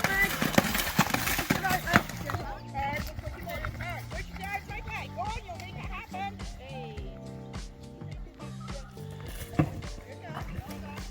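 A horse being ridden and jumped, its hooves clip-clopping in a steady rhythm at close range beneath a continuous layer of talking and background sound.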